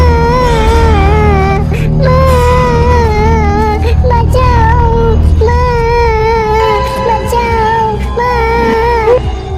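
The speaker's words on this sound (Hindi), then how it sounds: "ये किसी बच्चे का रोने का आवाज थी।" An infant cries continuously in a horror tale about a haunted well: loud, sustained wailing with rising and falling sobs that fill the whole stretch with no pauses.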